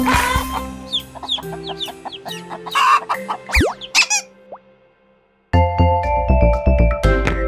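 Hens cluck and squawk in a bright children's farm song, with bird calls, a rising slide whistle and chirpy musical tones, then a brief silence before bouncy instrumental accompaniment with more clucks resumes.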